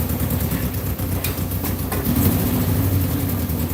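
Honda S600 engine idling rough on its first start after sitting for years, with an exhaust leak; a steady close mechanical idle with a fast uneven chuff running throughout, no talk.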